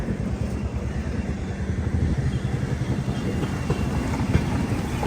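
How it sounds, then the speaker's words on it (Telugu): An express train rolls through Guntakal Junction on the Secunderabad to Vasco da Gama line, a steady close rumble with faint rhythmic clatter of wheels over rail joints, continuous and with no talk. "మన ట్రైన్ ఎలా వెళ్తుందా గుంతకల్ జంక్షన్ లోపలికి"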